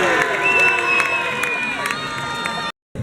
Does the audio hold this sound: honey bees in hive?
no